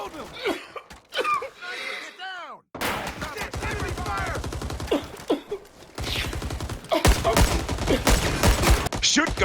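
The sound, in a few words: gunfire in Rising Storm 2 Vietnam video game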